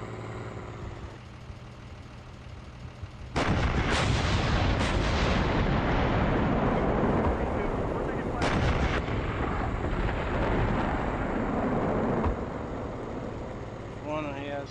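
Heavy gunshots and booming artillery-like blasts in a wooded battle setting, a loud sudden report followed by sustained rumbling fire and further sharp shots, with voices talking over it.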